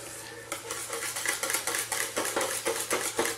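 A spoon stirs a thick bechamel sauce in a pot, making rhythmic scraping strokes against the metal, fairly close and steady with no talk.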